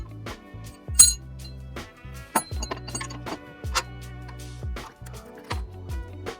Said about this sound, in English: Next thing to do is install your new upper control arm the same way you took the old one out